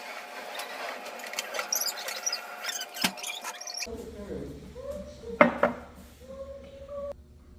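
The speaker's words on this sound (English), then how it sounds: "I just noticed doing the dishes" Dishes being washed in a full kitchen sink, with scattered clinks and clatters of crockery and cutlery over running water, plus a sharp knock partway through and a faint voice in the background.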